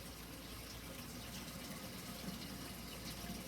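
Tap water running steadily into a Brewer's Edge brewing pot, a constant close hiss and splash that holds at an even level throughout with no speech.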